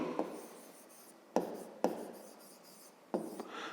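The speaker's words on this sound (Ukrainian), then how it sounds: "Ну що ж, можна робити усно, ну але можна дещо записати, щоб було зрозуміліше. Я б записав так." Pen writing a math expression on paper, close and quiet, with short scratchy strokes broken by four sharper taps as new marks begin.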